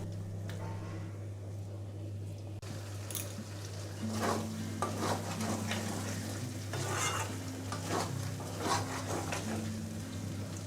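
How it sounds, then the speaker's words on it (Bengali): Chicken is stirred and sautéed with spices, green chillies and mustard oil in a pan, giving a soft sizzle with scraping stir strokes that grow busier partway through, under a constant low hum. "সব একসাথে কষিয়ে নেব ভালো করে।"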